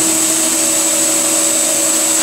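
A mill-turn lathe machines a bearing adapter at 800 RPM, feeding 11 thou per rev: a loud, steady whirring whine with constant tonal hum, close and unbroken throughout.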